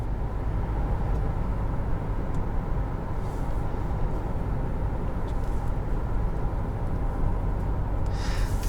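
Steady, loud road and engine rumble from a 2019 Ford Ranger Lariat pickup driving through corners, a continuous low drone throughout with no talking.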